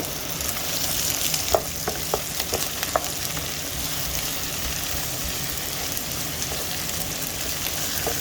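Dried fish going into a crab stew pot that sizzles steadily, with a few soft clinks and stirring scrapes early on, then an even frying hiss with no one talking.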